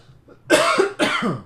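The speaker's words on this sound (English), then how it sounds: "I'm sorry I got a cough" Two quick, harsh coughs, close up and loud, one right after the other.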